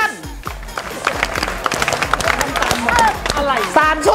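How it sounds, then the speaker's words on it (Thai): Audience in a crowded venue facing a stage, clapping together in a rough rhythmic pattern, with busy crowd noise and some voices mixed in throughout. "คนหันหน้าไปหน้าเวทีแล้วปรบมือเป็นจังหวะค่ะ"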